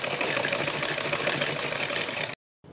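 A sewing machine stitches along the buckram on a salwar hem (mohri), its steady, dense whirring running for over two seconds before cutting off abruptly into silence.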